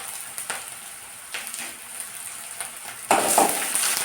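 Crushed garlic and curry leaves fry in a pan for a home-style curry, with a close, steady sizzle, occasional stirring scrapes, and a louder burst of hissing near the end.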